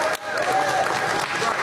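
A burst of applause from a crowd, loud and dense clapping that swells quickly and carries on steadily.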